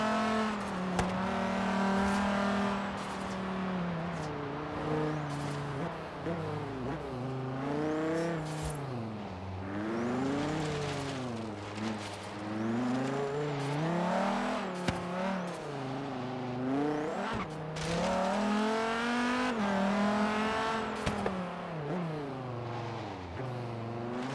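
A car engine in the Forza Horizon 3 racing video game, revving up and down through repeated gear changes with rising and falling whines, loud and continuous, no talk over it.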